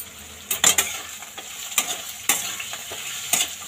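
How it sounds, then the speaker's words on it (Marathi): Peanuts tossed into hot oil in a pan, frying alongside potatoes for a fasting spiced rice dish, give a steady close sizzle broken by several sharp stirring scrapes and clatters, with no talking. "आपण त्यामध्ये आता शेंगदाणे टाकून घेऊया, ते पण 2 मिनिटं फ्राय करून घेऊया त्यामध्ये"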